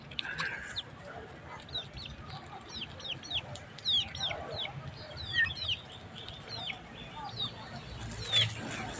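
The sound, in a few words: chickens clucking while being fed scattered wheat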